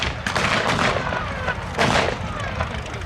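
Gunfire and booming bursts at a Tiger 131 tank battle re-enactment at The Tank Museum, with rapid covering fire at about 1,000 rounds a minute; several loud, outdoor bursts echo across the field.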